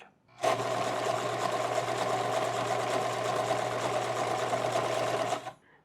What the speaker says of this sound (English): With a regular sewing machine, I can sew in a straight line